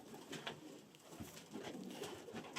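Flying pigeons in a New York loft coo in soft, repeated low calls, several birds close by, over faint rustling room noise.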